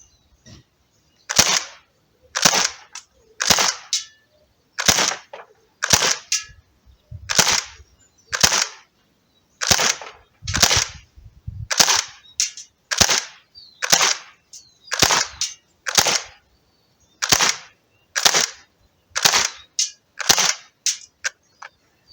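An Umarex H&K MP5 PDW .177 CO2 airgun fires about twenty sharp single shots at a fairly regular pace, each a crisp, loud crack with a short tail, separated by brief silences.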